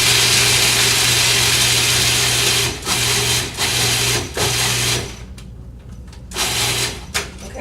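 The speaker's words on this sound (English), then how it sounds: "this is a food processor, it's a Cuisinart" A Cuisinart food processor grinds vegan cheesecake ingredients with a loud, steady motor whir that stops and restarts several times in short pulses, then drops to a quieter stretch before a final burst.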